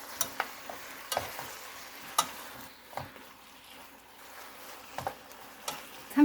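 Onions and fish cake being stir-fried in a pan, with a soft steady sizzle broken by irregular scrapes and taps of a utensil against the pan, close and fairly quiet, no talking.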